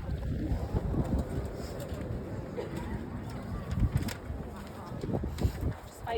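Gusting wind buffets a microphone outdoors, a steady low rumble with louder bursts, and indistinct talk runs underneath.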